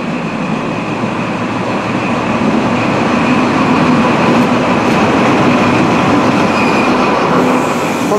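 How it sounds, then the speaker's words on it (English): East Midlands Trains Class 43 HST pulling into Nottingham station, a steady loud rumble of wheels and engine with faint rail squeal running throughout, no voices. "And now arriving in is the delayed 1453 arrival to Nottingham from London St Pancras. It's a Class 43 HST"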